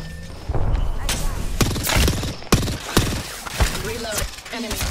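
Rapid gunfire in a ranked Apex Legends fight, sharp repeated shots cracking close and loud in irregular volleys, with a player talking over the exchange.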